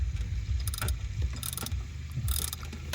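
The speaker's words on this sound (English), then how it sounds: "I put a wrench in here to check the tightness on the bolts." A ratcheting wrench clicks in quick bursts while tightening bolts on a 2013 Chevy Cruze, with several close, sharp ratchet runs over a low rumble.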